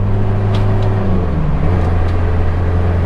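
A 1995 Toyota Hilux Mighty-X pickup with a 2.5 engine cruises steadily, its low engine drone and road rumble loud and constant from inside the cab, with a few faint clicks over the top.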